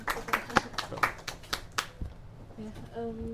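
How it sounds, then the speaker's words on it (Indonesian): A small audience at a book discussion in a library gives a brief round of scattered hand claps, a few sharp near claps at first that thin out, with a voice briefly heard toward the end. "Oke, boleh kasih tepuk tangan dulu."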